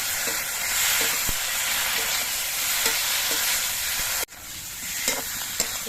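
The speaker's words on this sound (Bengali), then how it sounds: "লঙ্কা বাটাটা দিয়ে আমি কিছুক্ষণ কষিয়ে নেব" Chili paste frying with spices for a rita fish dish, a loud continuous sizzle and hiss with light spoon taps against the pan, close up, briefly cut off near the end before resuming.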